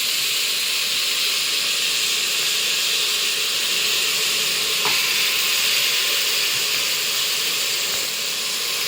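Goat meat sizzles and fries with softened tomatoes in a hot pan for a goat-head curry, a loud, dense, continuous hiss with a faint clink partway through.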